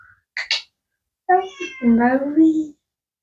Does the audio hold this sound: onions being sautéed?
no